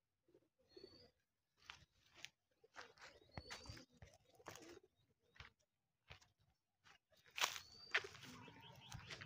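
Pigeons cooing from inside a hole in a wall, soft, low coos in short separate bursts with gaps between them, mixed with faint rustling and scuffing close by.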